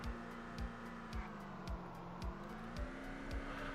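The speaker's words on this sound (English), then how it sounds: "These cars have very high-pitched engines." A red car in the VEIN video game runs with a high-pitched, strained engine whine, holding a steady tone that dips and rises slightly, with faint regular thumps beneath.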